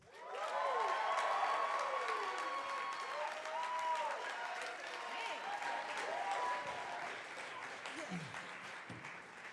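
A conference audience applauds steadily as two speakers are welcomed onto the stage, a dense, sustained wave of clapping with a few cheers that tapers off near the end.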